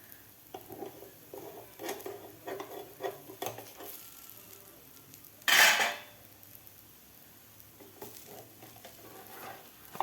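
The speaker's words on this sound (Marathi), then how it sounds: "लगेच आता आपण हे पराठा पलटी करून घेऊया" A besan egg paratha cooking on a pan gives a soft, quiet sizzle with light scraping and clinks, then one loud brief hiss as it is flipped onto the hot surface, followed by low sizzling.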